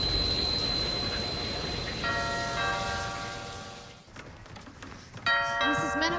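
A doorbell chimes indoors in a home, a clear two-tone ring with sustained bell tones that fade, followed by a second chime near the end, with faint room noise between.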